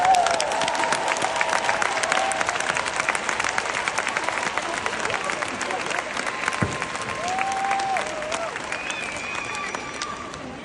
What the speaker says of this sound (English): And give yourself a big applause.